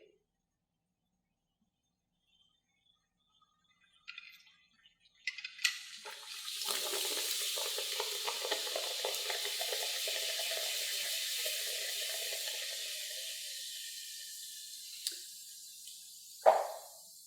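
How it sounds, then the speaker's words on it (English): Hydrogen peroxide breaks down with a catalyst in a test tube, giving a soft, continuous fizzing and bubbling that builds after a few faint clicks, holds for several seconds, then thins out, with a sharp tap near the end. "there's a small amount of bubbling continuing in the test tube due to the breakdown of the hydrogen peroxide"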